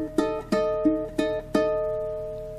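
Ukulele fingerpicking a bar of a song, five or six clear plucked notes and chords at a slow, even pace that ring out and decay, played alone without talk.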